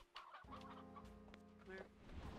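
A chicken in the video game Slime Rancher 2 clucks in a short series of soft, close clucks over a steady game background, faint overall.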